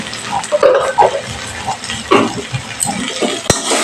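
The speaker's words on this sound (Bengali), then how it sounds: "এবার আমি মশলাটা তেল ভালো করে অনেকক্ষণ ধরে কষিয়ে নেবো" Spice paste frying in oil in a pan, a choppy close-up sizzle with wet spluttering bursts and stirring scrapes rising and falling, ending with a sharp click.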